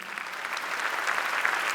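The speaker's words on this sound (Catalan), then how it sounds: "Un fort aplaudiment per ell." An audience gives a brief, steady round of applause after a medical talk, the dense clapping filling the whole moment without any speech over it.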